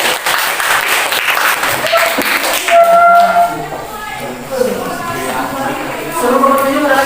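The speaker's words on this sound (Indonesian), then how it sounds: "tepuk tangan dulu buat kelompok." A high school classroom applauds a student group, the clapping bursting out at first and then thinning under overlapping voices of students and a teacher talking.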